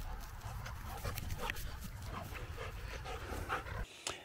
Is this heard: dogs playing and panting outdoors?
yes